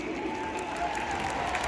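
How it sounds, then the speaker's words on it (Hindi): A stadium crowd claps continuously, a dense wash of applause with some cheering mixed in. "भाई ताली बजा दो। ताली बजा दो।"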